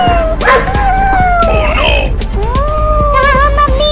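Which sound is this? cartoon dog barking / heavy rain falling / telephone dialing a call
cartoon dog barking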